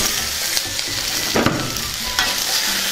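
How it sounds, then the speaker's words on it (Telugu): Boiled, peeled colocasia pieces with turmeric are stirred in a hot pan, a loud continuous sizzle and frying crackle throughout with a few heavier scraping strokes of the spatula. "వీటిని కూడా ఒకసారి బాగా కలుపుకుందాం."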